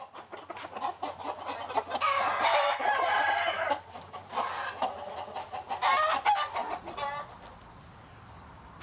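Fighting cocks raised on a vanilla farm crow and cluck in a loud, busy chorus, with several overlapping calls rising and falling close by, then settling into quieter clucking near the end.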